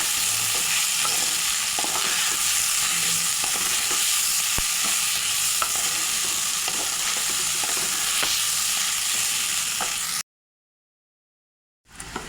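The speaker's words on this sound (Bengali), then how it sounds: "এবার চালটাকে ভালো করে ভেজে নেব।" Rice grains fry in hot oil with bay leaves and whole spices as a spoon stirs them in the pan, a steady close sizzle with scraping strokes, then a brief silence before the sound resumes.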